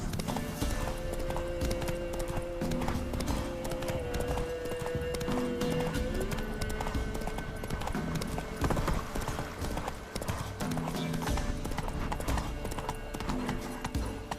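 Hooves of Roach, Geralt's horse in The Witcher 3: Wild Hunt, clip-clop steadily at a gallop for the whole stretch over game music, with an occasional whinny and snort close by.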